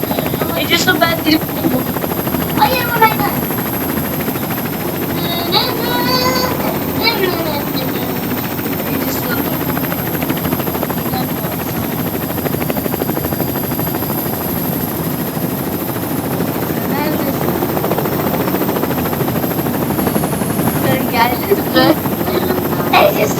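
A helicopter drones steadily throughout with a constant rotor buzz, while people talk and exclaim over it.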